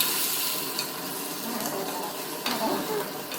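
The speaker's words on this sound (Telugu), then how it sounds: "బాగా ఫ్రై చేసుకోవాలి." Ginger garlic paste frying in hot oil, a steady soft sizzle with a few faint scrapes of stirring, close and without voices.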